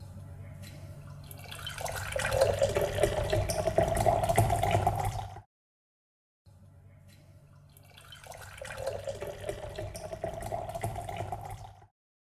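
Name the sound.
pouring ice-cold water into iced coffee glass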